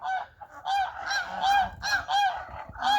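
Geese from Sumy Oblast honking loudly and close, a rapid series of repeated nasal honks overlapping one another from several birds, no talking.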